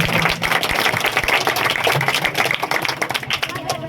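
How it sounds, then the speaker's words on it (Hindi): Dense, energetic applause from a crowd at an outdoor local ward election rally, many hands clapping close and loud for several seconds with some voices mixed in. "तालियां होनी चाहिए।"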